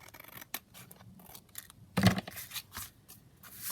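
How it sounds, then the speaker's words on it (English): Scissors trimming a paper envelope, several crisp close snips and rustling paper, with one louder cut partway through, in a quiet room. "So we'll just trim that down there."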